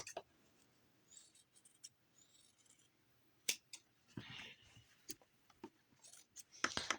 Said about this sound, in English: I'm gonna roughly trim some of this up before I flip it.